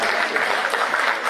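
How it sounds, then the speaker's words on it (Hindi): A crowd at a poetry recital held at Bharati Vidyapeeth in Paschim Vihar gives a loud, dense round of applause, steady and continuous throughout. "जोरदार तालियां।"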